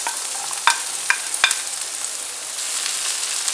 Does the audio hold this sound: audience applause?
no